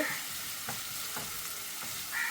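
Ginger, garlic and shallot paste sizzles and fries in a pan for a chicken and potato curry, with steady crackling and a few soft stirring scrapes, close and moderately loud, no talk.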